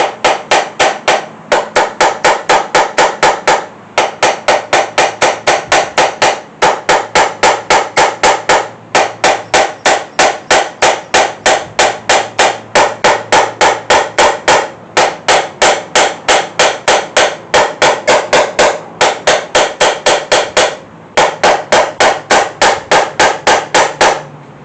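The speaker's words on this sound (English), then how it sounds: "push it down on the piston, and you tap the piston down" A hammer taps a piston down on a Small Block Chevy 350 engine build, loud rapid metallic strikes in bursts of many blows with short pauses between, close and alone.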